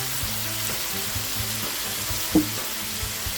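Pumpkin and egg stir-fry with oyster sauce sizzles steadily in a pan while it is stirred, giving a loud, continuous frying hiss with one brief scrape of the utensil.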